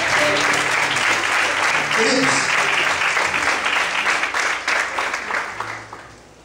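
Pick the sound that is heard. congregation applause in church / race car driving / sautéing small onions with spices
congregation applause in church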